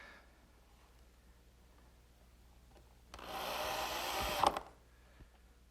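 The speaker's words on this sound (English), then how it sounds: "Keep this column from spinning while I mill it." A power tool mills a wooden candle stand column clamped in a box jig, giving one loud, dense burst of about a second and a half that ends abruptly, with near-silence on either side.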